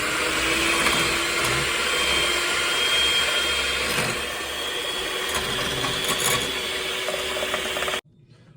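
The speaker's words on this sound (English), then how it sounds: "So I'm now going to start this up and we're going to get this whisked up." An electric mixer whisks cream in a bowl with a loud, steady motor whir and a mechanical rattle that runs almost unbroken, then abruptly cuts out near the end.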